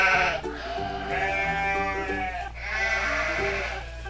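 A person's voice imitates a sheep bleating, a wavering, drawn-out 'baa' sustained for several seconds with a brief dip partway, made during a children's toy game of sorting farm animals into barns.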